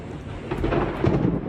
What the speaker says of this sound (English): A lightning strike flashed just a few meters away, leaving a Queensland family holding their breath.